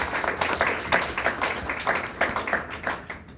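Audience applause at a seed library forum, a moderate crowd clapping in uneven bursts that swell and ebb before thinning out at the end.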